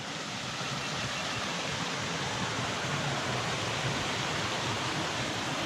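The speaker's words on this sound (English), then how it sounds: "Funny how you're walking through here and you hear water." Steady rushing water fills the scene, a constant broad roar of a forest stream flowing close by with no voices, along the North Fork Skokomish River trail in Olympic country.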